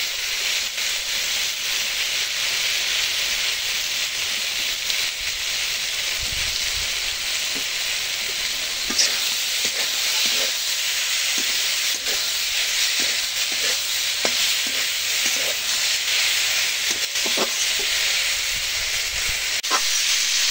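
Dried hilsa fish and eggplant frying in a pan, a steady loud sizzle and hiss running throughout with occasional small crackles and stirring clinks, no talking.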